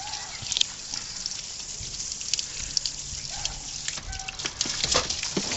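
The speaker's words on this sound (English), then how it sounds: "You can hear the water going through here." Water drains from a waterbed through a hose, a faint, continuous crackling trickle with scattered small splashes and gurgles.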